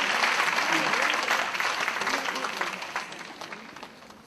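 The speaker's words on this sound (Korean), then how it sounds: "여러분 모두 박수와 함성으로 축하해 주시기 바랍니다" An outdoor rally crowd of daycare operators applauds and cheers in Yongsan, a loud burst of dense clapping that gradually tapers off, with some voices mixed in.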